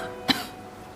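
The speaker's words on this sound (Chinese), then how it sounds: "怎么咳嗽起来了？" A girl's single short cough at home, faint and indoors, rising briefly over a quiet background hiss.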